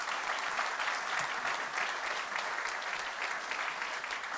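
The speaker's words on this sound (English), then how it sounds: "let's take a moment to applaud those accomplishments" Steady, dense applause from a large audience at a commencement awards ceremony, an even wash of clapping holding at a constant level throughout with no voices breaking through.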